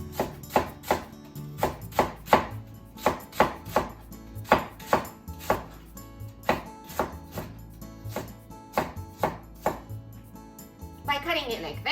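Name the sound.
knife slicing napa cabbage leaves on a board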